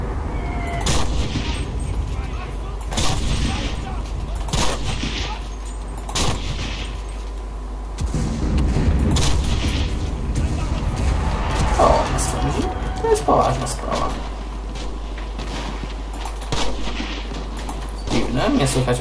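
Gunfire and artillery from the World War II shooter game Enlisted sound as repeated sharp shots and heavy booms scattered through the stretch over a steady low hum, with a person talking throughout.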